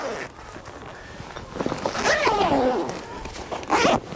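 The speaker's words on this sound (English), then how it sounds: "So you just run the zips" Zips on the cover of a SupaPeg Outbound Shield 6 freestanding awning being run open, a drawn-out rising and falling rasp with rustling fabric and a few knocks, fairly close.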